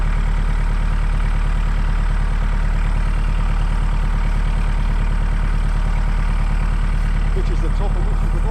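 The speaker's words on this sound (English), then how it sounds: "just bringing up the next post with the tractor" A farm tractor idles steadily with a low, rumbling diesel drone while a fence post is brought up during fencing work, a continuous near engine hum running the whole time with faint outdoor background.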